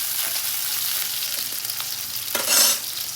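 Onion and spice paste fries in a pan with a steady, close hiss, broken by a few soft scrapes of stirring and a brighter sizzling surge near the end.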